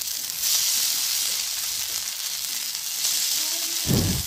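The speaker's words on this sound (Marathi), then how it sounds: "आता आपण ह्या वड्या तव्यावर भाजून घेऊया." Kothimbir vadi, coriander fritters with bajra flour, roast on a hot tawa with a steady hiss and sizzle and a brief louder crackle near the end.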